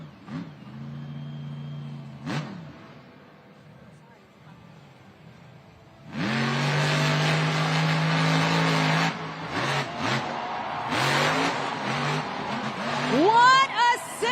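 Monster Jam monster truck engines roar at an awards show arena, a steady rumble giving way to loud sustained revving and surging bursts, with crowd and announcer noise blended underneath.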